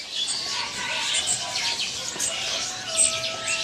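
Beranjangan larks chirp at a bird kiosk among other caged birds, with light, scattered high tweets and calls repeating over a steady background of market hiss.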